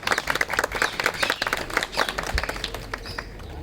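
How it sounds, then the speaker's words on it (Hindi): An audience claps at a party stage event in Lahore as an ustad is invited up, a loose patter of many hands at close range, thinning out toward the end. "तालियां मारो यार"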